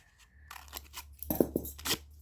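Plastic gift package with no perforation being torn open by hand, a few crinkly rips and crunches at close range, no talking.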